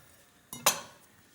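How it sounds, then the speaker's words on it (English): A kitchen knife cuts broccoli florets on a board, giving a single crisp chop with a sharp clack, close and otherwise quiet. "I'm just going to cut up the florets of broccoli like this"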